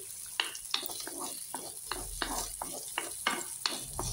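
White onions fry in olive oil, giving a quiet continuous sizzle with sharp clicks of a spatula stirring against the pan at irregular intervals.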